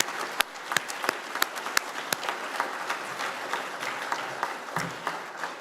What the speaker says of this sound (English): Let's give our faculty members and university staff members a round of applause